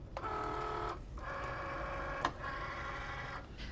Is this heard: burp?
no